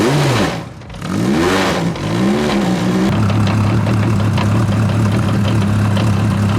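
Lewis Hamilton's first championship-winning race car, rebuilt with Manor Motorsport parts, fires up close by. Its engine revs rise and fall in a few swooping blips for about three seconds, then settle into a loud, steady idle.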